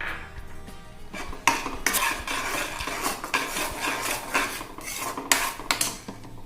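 Rava kesari being mixed in a pan with a spoon, repeated scraping and clattering strokes of metal against the pan, close and steady.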